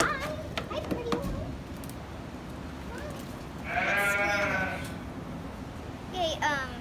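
Show goat of a distinct breed bleating in a livestock pen, one clear drawn-out bleat midway and a shorter call near the end, with people talking nearby throughout.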